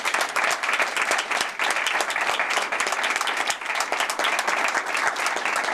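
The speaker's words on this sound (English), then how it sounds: "Let's give them one more round of applause." Sustained applause from an audience at a Toastmasters meeting, many hands clapping briskly and evenly throughout, fairly loud and close.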